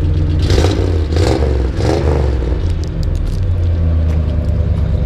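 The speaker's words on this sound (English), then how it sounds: "Go ahead and rev it." The engine of a 1973 Ford F100 Ranger XLT 4x4 pickup idles loudly, then is revved in three quick blips early on before settling back to a steady, rumbling idle, heard close with no talking.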